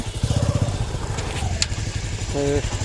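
A motorcycle engine putters nearby at Bakkhali sea beach, steady and buzzing, with short bursts of talk mixed in.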